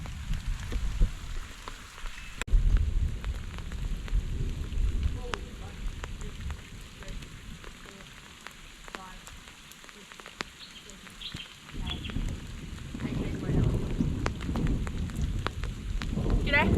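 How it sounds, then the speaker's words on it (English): Heavy rain pours steadily while thunder rumbles and booms through a hilly valley, low rolling swells rising and fading around the hiker, with no talk over it. "it's like a sonic boom down here with the noise of this thunder"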